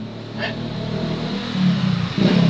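A vehicle goes by on a road in a rural spot, a low engine rumble with a brief brighter whoosh, the motor sound swelling toward the end; a voice may be faintly present.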